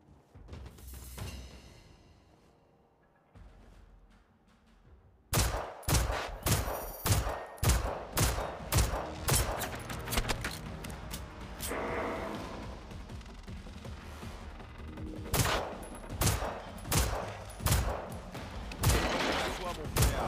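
Rapid volleys of gunfire from the video game Generation Zero, loud and close, bursts of sharp repeated shots after a quiet opening, with faint talk in places.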